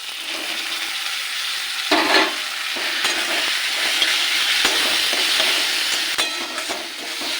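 Eggplant fries in a pan with a steady, close sizzle of hot oil, broken by a few sharper scraping stirs and spatter bursts, with no voices.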